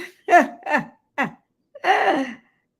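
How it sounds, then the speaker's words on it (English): A person coughs close to the microphone, three short sharp bursts followed by a longer, rougher throat-clearing cough. "I'm up here coughing."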